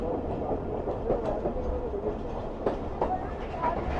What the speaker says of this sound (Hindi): फ़िलहाल तो ट्रेन 30-40 की स्पीड में चल रही है।